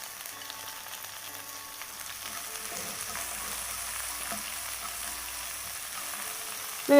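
Curry leaves, onion and ginger frying in oil in a pan while making rava upma, a steady soft sizzle with faint stirring, close and even throughout.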